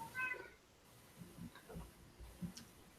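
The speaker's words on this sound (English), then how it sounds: "I hear a cat." A cat meows faintly a few times in a quiet indoor room, the soft calls nearly buried in low background noise with small taps and clicks.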